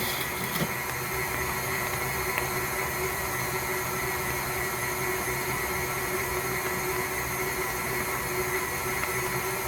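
An electric mixer beats sour cream pound cake batter in a kitchen, giving a continuous, steady motor whir with a constant hum and no pauses.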